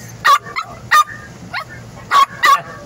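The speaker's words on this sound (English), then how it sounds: "I don't think they like you barking in the window" A Yorkie barks indoors at a window in four sharp, loud bursts spaced roughly evenly, with a couple of softer yips in between.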